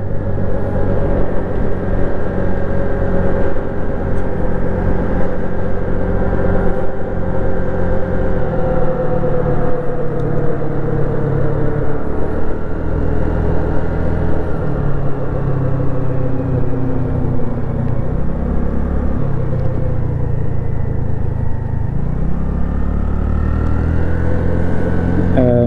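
A Honda Navi small motorbike, its carburetor in need of adjustment, is ridden steadily for the whole stretch, the engine droning loud and close with shifting rumbling tones and no talk.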